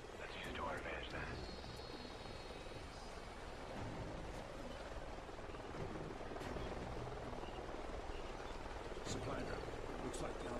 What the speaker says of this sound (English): Sounds like a chopper's up ahead of us.